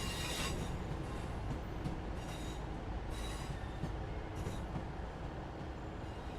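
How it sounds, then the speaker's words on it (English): A Northern train passing at Crewe on the West Coast Main Line in Train Sim World 6: a loud, continuous rumble of wheels and carriages close by, with repeated squeals and hissing flares cutting through the roar. "Caught me off guard, literally just heard it, is your, I believe, 1216 Northern train service to Manchester Piccadilly."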